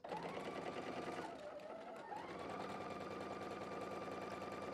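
Close sewing machine stitching a quilt block in a continuous rapid whirring run, briefly slowing and dipping in pitch midway before resuming at a steady pace.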